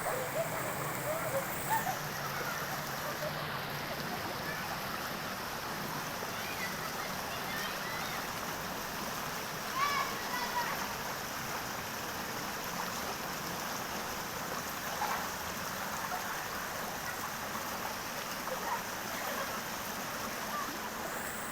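River water flows in a steady, faint broadband rush, continuous and fairly distant, with a few small splashes and a voice briefly in the background.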